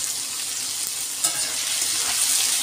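Potatoes fry with salt in a pan for a chowmein dish, making a continuous, fairly loud sizzle. A single clack of the stirring spoon stands out midway, and nobody speaks.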